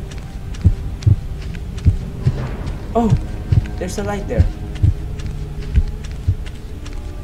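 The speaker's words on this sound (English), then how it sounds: "What the fuck is that heartbeat?" Low, paired heartbeat thuds from a video game pulse steadily at a slow rhythm, while someone speaks briefly over them partway through against a faint hum.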